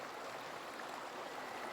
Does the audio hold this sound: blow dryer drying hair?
no